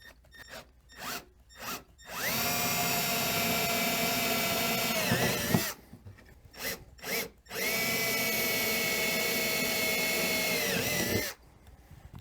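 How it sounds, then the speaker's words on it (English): A small bit, a little over 1/8 inch, drills a pilot hole while mounting a Garmin Echomap on a Ski-Doo. Short trigger blips lead into two long, steady, whining runs of the drill, each several seconds, with a brief pause between them. "The reason that we pilot drill a hole prior to drilling out to final size"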